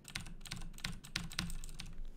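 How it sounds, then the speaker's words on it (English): Fast, uneven clacking keystrokes from a loud mechanical keyboard with blue LED lighting sound close and crisp, typed in quick bursts over a faint background. "the blue lights on the mechanical keyboard. And it's so loud,"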